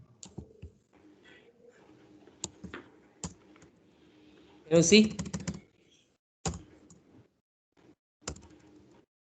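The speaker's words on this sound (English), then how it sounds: "try to type something in Sublime" Someone types on a computer keyboard in the Sublime text editor during a programming lesson. Sparse individual key clicks are heard, with one quick burst of rapid keystrokes in the middle, under and between a person speaking.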